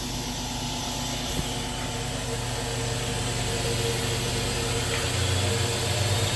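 A FADAL 6030 HT CNC vertical machining center runs its spindle at 5,000 RPM, producing a steady, even mechanical hum with faint tonal whine and no break.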